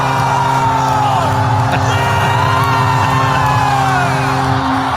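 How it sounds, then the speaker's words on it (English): Frenzied crowd at an NFL football game, loud and continuous, a dense wall of yelling, whooping and bellowing voices with sustained shouts rising over the roar throughout. "It's just frenzied screaming."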